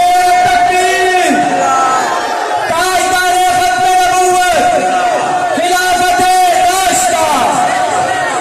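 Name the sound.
crowd shouting religious slogans at a devotional gathering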